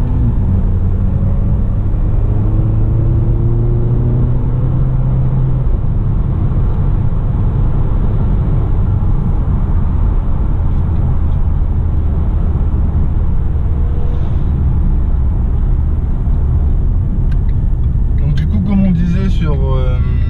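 From the passenger seat of a Renault RS, a loud, continuous engine rumble and road roar fills the cabin, with people talking over it throughout.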